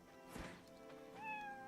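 A cat meows once in the video game Atelier Ryza 3, a quiet, drawn-out mew rising then falling, heard over soft background game music.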